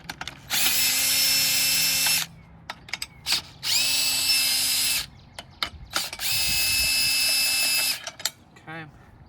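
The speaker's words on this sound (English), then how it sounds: "So we're going to take these 4 bolts off first." A power drill spins out bolts in three long whining bursts, loud and close, separated by clicks, rattles and handling noise of the tool and parts.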